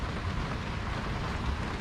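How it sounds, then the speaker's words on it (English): Steady rain drums on a boat in wind-driven weather, a dense, even patter close by that holds at one level throughout with no voices. "It's neat because I can go down here and it's keeping the rain from coming in."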